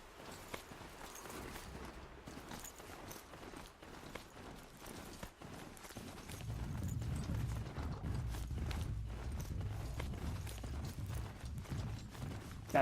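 Machine-horse hooves in the Horizon Zero Dawn video game, a fast rhythmic run of clip-clopping steps with mechanical clanks that grows heavier and nearer partway through, with no talking.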